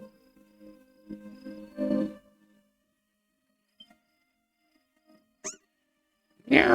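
A cat in a video game gives a harmonic meow, then short squeaky chirps and a final rising cry after quiet gaps, clear and close.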